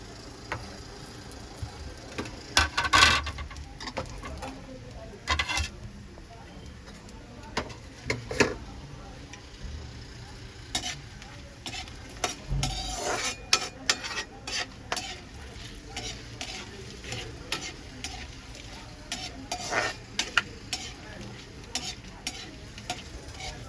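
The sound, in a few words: whole spices tempering in hot oil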